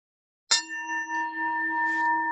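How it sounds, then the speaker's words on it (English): One strike on a meditation bell in a quiet room gives a clear, bright ding that holds a steady, ringing tone and slowly sustains with no other sound around it. "I'll be starting our meditation with one bell"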